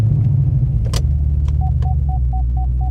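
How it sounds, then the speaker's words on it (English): An HSV Clubsport R8 LSA idles with a loud, steady low rumble after starting, with a few clicks and a repeating electronic chime sounding above the engine. "Let's just start the car for a moment and we'll just double check that now."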